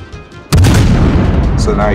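A battleship's heavy gun salvo in the World of Warships game, the German Bayern firing at the player: one sudden loud boom that rolls into a long rumbling tail, with a voice talking over it.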